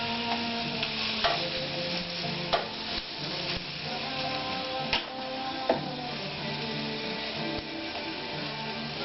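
A bun toasting in a pan alongside sizzling hot Italian sausage and peppers, a steady close sizzle with occasional ticks and clicks of stirring throughout.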